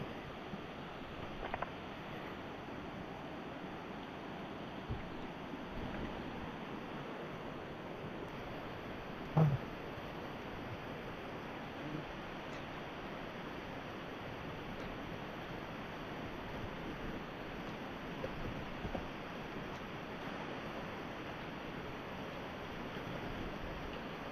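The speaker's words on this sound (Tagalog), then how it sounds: "malakas yung agos ng tubig." Strong river current rushing along a mountain trail in the Sierra Madre, a steady, broad wash of water that stays constant and fairly distant, with faint wind mixed in and a few small knocks.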